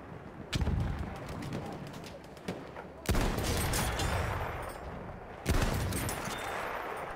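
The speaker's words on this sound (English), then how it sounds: "Stop shooting at me." Heavy gunfire in the video game Battlefield 1: three loud, sharp shots, each trailing into a long rumbling echo, with scattered distant fire in between.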